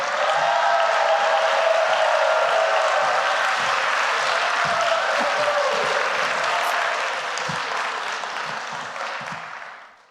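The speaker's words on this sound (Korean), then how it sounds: "여러분 두 손, 두 발 다 들어서 뜨거운 격려, 박수로 맞이해 주시기 바랍니다" Sustained applause from a chapel audience welcoming a pastor, dense and loud from the start, holding steady for several seconds before tapering off at the end.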